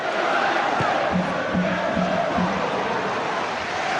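A football crowd jeers Tottenham's Stefan Freund during a 2001-02 Premier League match against Manchester United, a dense roar of many voices that holds steady throughout, with no single voice standing out.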